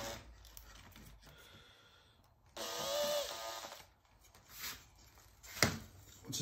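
A handheld drill bores into wood with a spade bit: quiet, uneven grinding and rasping in short bursts, with pauses and a louder push in the middle, close by and faint overall.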